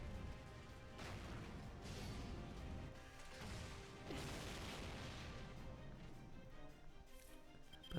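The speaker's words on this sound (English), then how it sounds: "God, that explosion's loud." Explosions in the game Fate: Grand Order burst in a dense, noisy series of crashing booms, sustained and loud, with several surges across the stretch and no voices over them.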